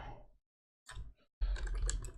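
Computer keyboard typing comes as short bursts of clicking keys separated by brief silences, ending in a denser flurry of keystrokes close to the microphone.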